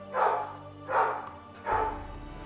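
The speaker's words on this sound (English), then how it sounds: "Oh god, now they're barking." Three evenly spaced barks from pet dogs indoors, each a short loud burst close by, with quiet gaps between them and no speech.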